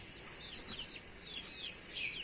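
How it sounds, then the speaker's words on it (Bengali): A local hen clucks and calls in short repeated bursts close by outdoors, the sounds rising and falling over quiet background air. "ওর জন্য ওই যে দেশি মুরগিটা"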